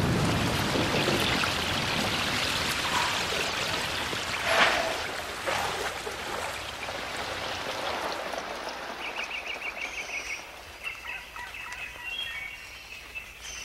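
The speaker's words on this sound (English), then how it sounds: "It will rain almost every day for the next 4 or 5 months." Rain falls in the Amazon rainforest, a steady hiss that fades over time while birds call and chirp more clearly toward the end, with no voices.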